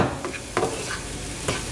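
Crumbly couscous sautés with root vegetables in a pan, giving a soft, continuous sizzle broken by a few scraping stirs of a spoon.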